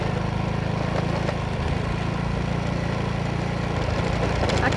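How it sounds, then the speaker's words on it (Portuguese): A motorcycle passing on a rural road between Lagoa de Barro and Arara, Paraíba, its steady mid-pitched engine drone holding close and fairly loud throughout. "Ali vem uma moto."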